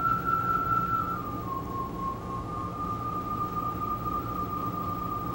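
A washing machine hose whirled through the air gives off a steady, fairly loud whistling tone that holds nearly one pitch, dipping slightly, over a rough background rumble.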